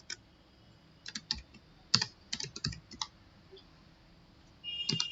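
Computer keyboard keys tapped in short irregular bursts while entering data into an Excel spreadsheet, close and crisp clicks with pauses between clusters, ending with a quick rapid run of keystrokes.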